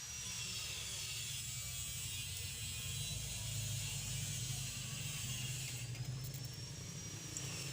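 An 8 cm dynabolt anchor bolt being tightened on the rail of a sliding gate gives a steady, close mechanical whirring with ratchet-like grinding that runs unbroken throughout, with no talking.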